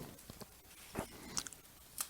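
Freeze-dried yellow squash crunched in a few quiet, scattered bites with short crisp snaps, close and faint, no talking.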